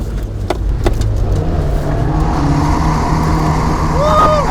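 A rally car powers through a dirt corner in second gear, sliding a little, its engine droning loudly and steadily close to the microphone. Gravel rattles at the start, and whistling tones rise and fall near the end.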